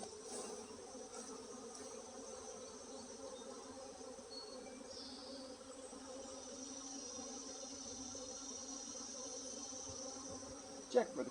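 Agitated honeybees swarm around an opened hive as the colony is shaken down into a lower box, their dense, steady buzzing drone continuing throughout with a faint knock near the end.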